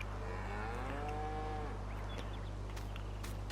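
A cow in the Farming Simulator 19 video game gives one long, drawn-out moo over a steady low hum, followed by faint clicks.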